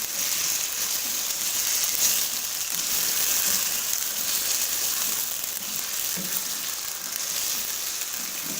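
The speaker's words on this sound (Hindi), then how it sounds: "इसको हम तकरीबन 4 मिनट तक गोश्त को फ्राई कर लेंगे" Chicken meat frying in a karahi for namkeen karahi, a steady close hiss of sizzling oil running throughout with faint scraping touches and no talking.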